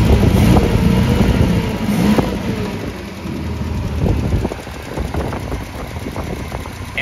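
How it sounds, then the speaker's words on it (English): The engine of a Triumph Spitfire idles and is revved once near the start, with a rough, rumbling tone that falls back as wind noise buffets the microphone. "I give it a rev."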